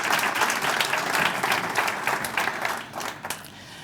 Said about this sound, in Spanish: Un aplauso grande, Ana, por favor.